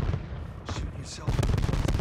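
Gunfire rattles in Modern Warfare 2, sharp rapid cracks and bursts over a steady rumble, with a couple of brighter pops midway and denser shots toward the end, voices murmuring underneath.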